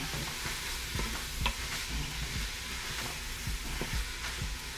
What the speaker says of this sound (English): I'm gonna add my andouille sausage. Let's get that out of the way. And we're gonna stir that up.